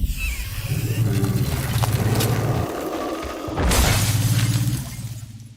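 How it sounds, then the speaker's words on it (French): A frozen allosaurus body shatters in an explosion in a movie scene, a loud sustained crashing roar of breaking debris with a deep low rumble and a second surge midway. "Le corps de l'allosaure gelé explose"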